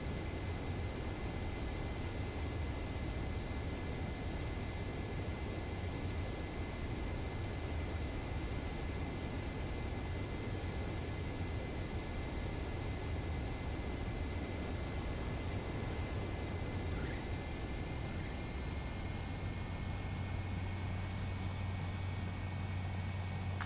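Steady jet engine roar from a fighter jet on final approach to a runway in Ace Combat 7, a constant broadband hiss with a low rumble and faint high whine, unchanging and moderately loud throughout with no talk.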